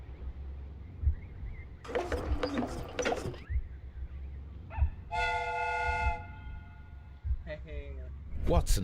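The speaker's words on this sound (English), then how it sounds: "The steam whistle is ready to be used." A steam whistle blows in a Sherlock Holmes video game, giving one bright sustained tone of about a second among mechanical clanks and thumps, over a low rumbling background with speech nearby.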